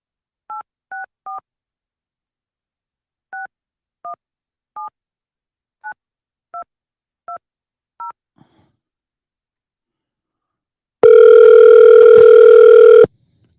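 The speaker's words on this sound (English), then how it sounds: "I'll call him on the company phone." Touch-tone dialing on a company desk phone: about a dozen short, evenly paced key beeps in small clusters, followed after a pause by a loud, steady dial tone lasting a couple of seconds.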